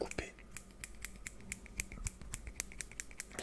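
Nails being cut with scissors or clippers in a quiet ASMR grooming routine, a rapid series of close, crisp snips and clicks, soft overall, with faint talk mixed in.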